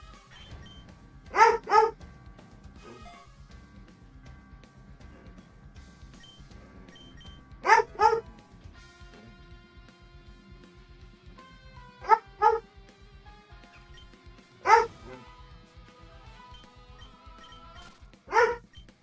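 Dog named Holmes barking indoors, five separate sharp barks or short double barks spaced several seconds apart, with quiet game music and faint clicks between them.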